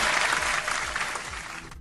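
An audience applauds in a dense, steady burst of clapping that fades slightly before stopping abruptly, with no voices over it.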